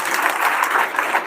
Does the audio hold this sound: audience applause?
yes